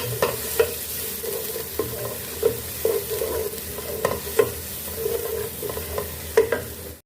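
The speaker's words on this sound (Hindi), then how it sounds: "और इनको हमें फ्राई कर लेना है।" Onion, garlic and ginger fry in hot oil for a kofta curry, giving a continuous sizzle broken by repeated scraping and clacking of a spoon stirring the pan, with no talk.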